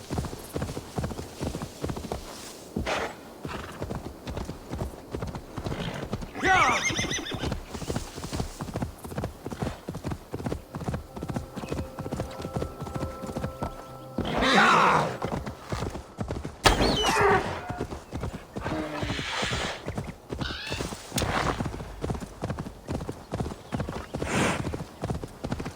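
Hooves trot in a steady, close rhythm in Assassin's Creed Valhalla, a horse whinnying loudly a few times along the way, with game music and little speech underneath.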